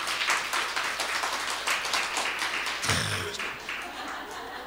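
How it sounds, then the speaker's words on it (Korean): A church congregation claps together, a steady broad wash of applause that carries on through the stretch and thins slightly toward the end. "우리 창음이를 위해서 박수 한번 치시기 바랍니다."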